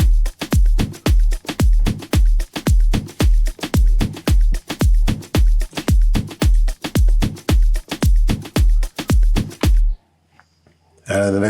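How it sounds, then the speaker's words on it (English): Afro House drum loop programmed in FL Studio, a steady four-on-the-floor pattern of punchy kicks with crisp hats and percussion, loud and alone for about ten seconds before cutting to near silence with a brief high tail. "you have drums that will sound like this"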